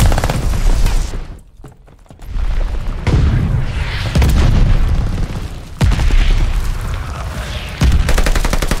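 Heavy mortar barrage explosions in the World War II shooter Call of Duty Vanguard, split-screen multiplayer: repeated loud booms and blasts roll over continuous gunfire, with several sharp impacts spaced a second or two apart and no talk.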